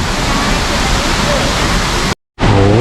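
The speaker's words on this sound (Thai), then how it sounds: "ก็จะเป็นน้ำตกนะเหมือนเดิม" A waterfall at a cool-climate flower garden in Rayong roars as a steady, loud, dense wash, cutting out briefly near the end before resuming.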